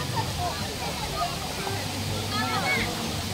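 Bolinao Falls 1 in Pangasinan rushes as a steady broadband roar of falling water, close and continuous, with people talking and calling over it.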